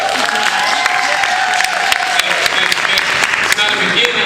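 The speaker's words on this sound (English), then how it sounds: "can I get a round of applause for that?" An audience at a Black History Bowl event at USC Upstate applauds, a loud continuous wash of many clapping hands with crowd voices and occasional sharper claps standing out throughout.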